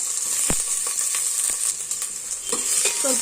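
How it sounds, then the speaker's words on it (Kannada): Onions and curry leaves fry in hot oil with popped mustard seeds for a simple sambar, giving a continuous close sizzle broken by quick spatula stirs and small crackling pops, with no one speaking. "ಸಾಸಿವೆ ಸಿಡ್ದಿದೆ ಆನಿಯನ್ ಹಾಕ್ತಾ ಇದ್ದೀನಿ ಆನಿಯನ್ನು ಮತ್ತು ಕರಿಬೇವು"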